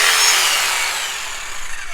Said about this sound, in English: I'm going to cut that out with the jigsaw